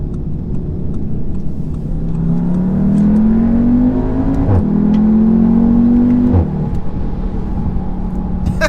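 A 2017 Audi TTS with a DSG gearbox accelerates from inside the cabin, its engine drone climbing steadily in pitch, easing off briefly, then rising again, loud and continuous.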